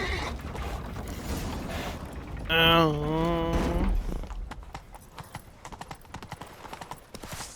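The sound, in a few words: horse hooves galloping in The Witcher 3 video game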